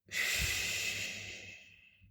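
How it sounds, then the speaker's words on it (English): A single long, steady exhalation of breath during a calming breathing exercise, close and fairly soft, fading gradually over about two seconds. "2 short breath in, 1 long breath out."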